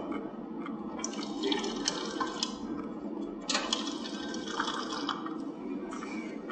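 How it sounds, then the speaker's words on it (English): A fresh-water tap runs at a sink in a combined toilet-and-sink unit in a holding cell, giving a steady splashing stream with a few sharper splashes and no voices. "the sink provides fresh water"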